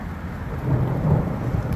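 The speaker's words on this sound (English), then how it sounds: "There's the thunder." Deep rolling thunder from a thunderstorm rumbles steadily and fairly loud, swelling slightly midway, with a faint wash of rain and no voices.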